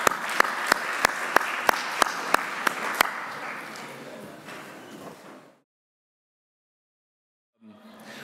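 Conference audience applause rises and thins out over about five seconds, with a few sharp close claps standing out early before the room drops to silence and a faint sound returns at the end.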